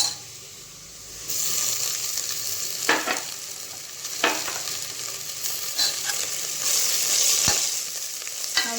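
Crushed ginger and garlic frying in a pan with browned onions: a steady hiss of sizzling with several sharp scrapes and clinks of a stirring utensil against the pot.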